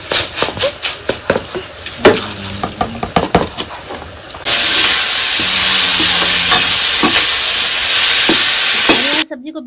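Kundru (ivy gourd) sabzi is stirred in a pan, with a string of scraping spoon strokes followed by a loud, steady sizzle of frying that cuts off abruptly near the end.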